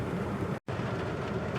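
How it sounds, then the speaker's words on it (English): Heavy rain pouring hard outdoors on a fall waterfall hike, a dense, loud, continuous broadband wash with a brief cut in the middle. "it just started raining really hard"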